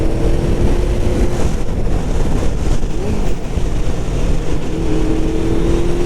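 Honda VFR750 motorcycle riding along a road, a loud continuous engine drone with steady wind and road roar, the pitch shifting slightly as it accelerates, close and unbroken throughout.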